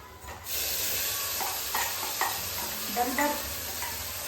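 Mint paste for pudina rice hits a hot pan and bursts into a loud, steady sizzle about half a second in, with faint stirring scrapes continuing over the hiss.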